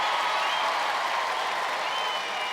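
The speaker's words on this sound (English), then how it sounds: "Let's have a big round of applause for Flame" A television studio audience applauds gladiator Flame during a 1995 Australian Gladiators competition. The clapping is loud, continuous and fairly even from start to finish.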